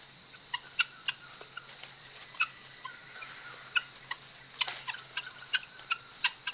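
A flock of guinea fowl in an African forest gives repeated short clucks and chatter at a distance, scattered irregularly over a steady backdrop of insect buzz.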